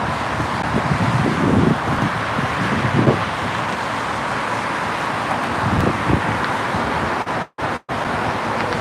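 Steady broadband rush of traffic and wind on the FDR Drive in New York, with passing vehicles swelling now and then and a couple of brief dropouts near the end.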